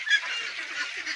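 Domestic ducks honk and quack in a dense, continuous chorus while feeding on rice bran and banana trunk, the calls loud and close with no talking.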